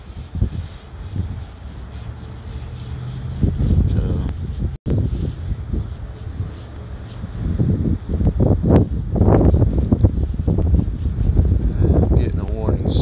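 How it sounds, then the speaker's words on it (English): Strong gusting wind buffets the microphone during a Mavic Mini drone flight, a loud continuous rumbling roar with surging peaks under a voice talking throughout. "This wind is kind of strong today"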